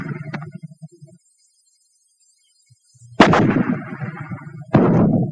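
Fragmentation grenades blast in a 1943 wartime infantry demonstration, two sharp loud explosions with rumbling debris trailing after each, following an earlier muffled thump and a silent pause.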